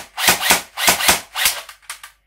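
L85 airsoft rifle with an Army Armament gearbox firing single shots, several sharp snappy cracks with blowback clatter in an uneven rhythm, heard close and alone.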